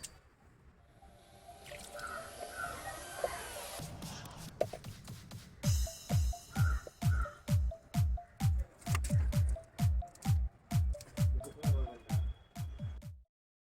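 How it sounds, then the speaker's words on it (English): A trigger spray bottle of soapy water pumped repeatedly onto a car tyre to check for leaks, a steady run of sharp wet squirts in quick rhythm, close by, after a stretch of hissing liquid sounds. "spray soap water on the tire to check for any leaks"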